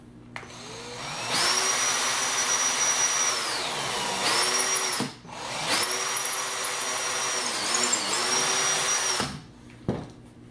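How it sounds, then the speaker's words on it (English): A power drill bores a hole in a speaker housing, whining up in two long sustained runs with pitch dips as the bit loads, then cutting off abruptly. "drill your hole in"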